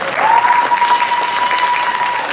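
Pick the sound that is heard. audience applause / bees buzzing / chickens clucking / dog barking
audience applause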